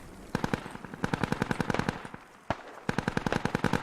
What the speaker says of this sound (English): there we go, mortars starting to come in on Crucible Alpha